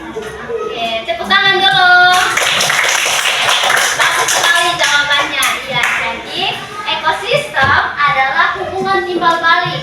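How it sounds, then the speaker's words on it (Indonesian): Children clapping together in a classroom, a burst of quick, loud applause that rises and then thins out, with children's and an adult's voices talking around it. "Oke, tepuk tangan dulu."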